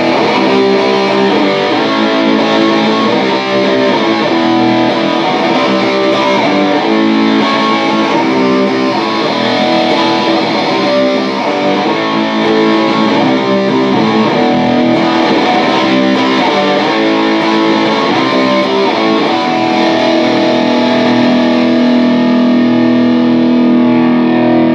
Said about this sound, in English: Next, we've got the Hardwire TL2 Metal Distortion.